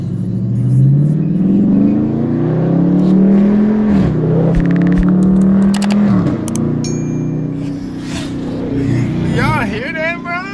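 A Dodge Scat Pack with its mid-muffler and resonator deleted revs close by, its exhaust note climbing, holding and dropping through a couple of throttle blips, with voices murmuring underneath.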